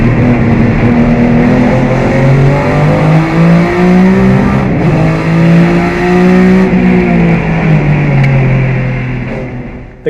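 A 2004 Porsche Cup race car from the 24 Hours of Daytona drives with its engine loud and close, droning steadily as the pitch rises and falls through gear changes before easing off at the end.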